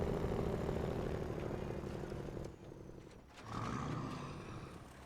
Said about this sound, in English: Sounds like it's got a 2-stroke Detroit in it. It's got a very burbly engine